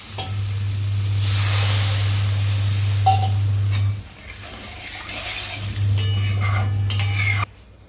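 Water poured onto fried spice paste for a Bengali prawn curry, with loud sizzling and hissing in the pan and utensil clatter and stirring, close, dropping off abruptly at the end.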